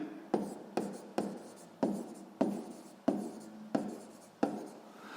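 Pen strokes scratching across paper while working a sixth-grade maths exercise, eight separate strokes in a steady rhythm, each a short rising scrape that fades, close and fairly quiet with no voices.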